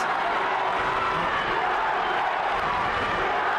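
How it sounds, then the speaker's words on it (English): Manchester United away supporters in a stadium, a dense, loud, steady crowd roar with cheering that stays unbroken throughout. "Lifted the crowd as well, which is what you need at this point."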